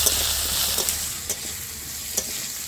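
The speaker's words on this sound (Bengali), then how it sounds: "তেলের মধ্যে আলুগুলো দিয়ে হালকা নাড়াচাড়া করে নিয়েছি" Potatoes fry in hot oil with a constant bright sizzle, punctuated by a few soft scrapes and taps of a spatula stirring them in the pan.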